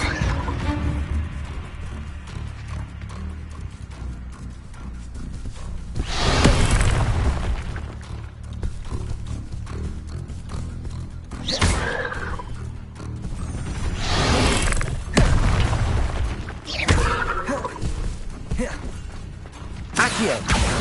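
Fire spells cast repeatedly in a fantasy wizard video game, several whooshing fiery bursts spaced a few seconds apart over constant mechanical game rumble and clatter, loud and close.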